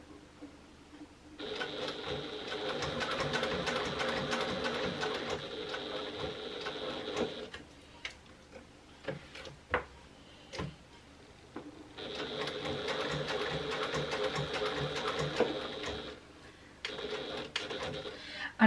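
A sewing machine stitches a zipper pocket into a bag lining in two long steady runs close by, separated by a pause filled with small handling clicks, then a short final burst.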